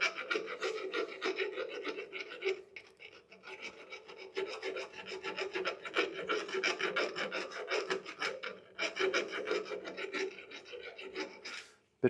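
A triangular hand file rasps back and forth across the edge of a lathe-turned metal spacer to take off a burr, a close, rhythmic scraping of repeated strokes with brief pauses between runs.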